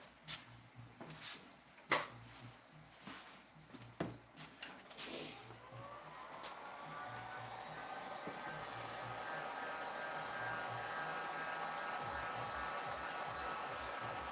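A heat gun blows hot air on a construction job, starting with some knocks and handling clatter, then settling into a steady, fairly quiet whooshing hum that rises slightly and holds to the end.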